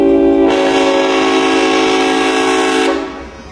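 A train horn blares loudly and steadily for about two and a half seconds over the rumble of a passing train, then cuts off as the rolling noise fades, recorded by a drone while railfanning.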